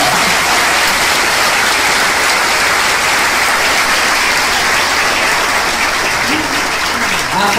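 A large crowd at a federal party congress in Argentina gives loud, sustained applause, a thick unbroken roar of many clapping hands filling the whole stretch at close, saturated volume.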